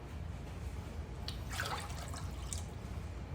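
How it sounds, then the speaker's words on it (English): A short trickle of 1 cup of water poured into a pot, splashing softly for about a second over a low steady background hum. "we're going to be adding 1 cup of water"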